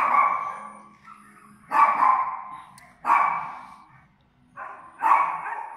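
Dogs at an animal shelter bark from their kennels in loud, drawn-out bursts, four or five of them with short pauses between, close by and without talk over them.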